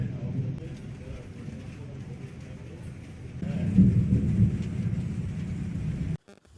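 During a heavy rain and lightning storm in Guwahati, Assam, in 2021, low thunder rolls in over steady rain, swells louder about halfway, then cuts off abruptly.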